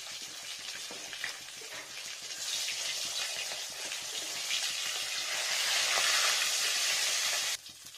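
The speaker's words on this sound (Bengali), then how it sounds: "দেখুন ফ্রেন্ডস, মাছের মাথাটা ভাজা হয়ে যাচ্ছে।" Rohu fish heads frying in hot oil, a continuous bright sizzling hiss that swells gradually louder before dropping off abruptly near the end, close and without talk.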